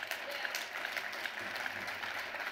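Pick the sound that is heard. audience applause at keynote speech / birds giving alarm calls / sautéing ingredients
audience applause at keynote speech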